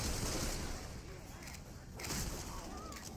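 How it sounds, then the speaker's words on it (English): Quiet bursts of gunfire in the zombie shooter Left 4 Dead sit under a dense, noisy game mix with no voices on top. "gunfire that's loud"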